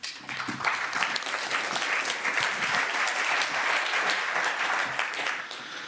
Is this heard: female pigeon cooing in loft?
no